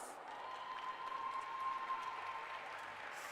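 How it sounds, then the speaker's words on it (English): Audience applause at a regional championship science and maths quiz contest in Greater Accra, a faint, steady wash of clapping from a crowd lasting a few seconds. "I think you all deserve a round of applause."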